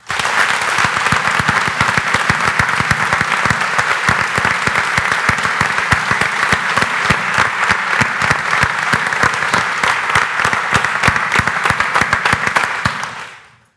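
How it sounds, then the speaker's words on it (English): A crowd at a SummerStrong event breaks into loud, sustained applause, dense rapid clapping from many hands filling the room for over ten seconds before cutting off. "can we give a round of applause for Pops?"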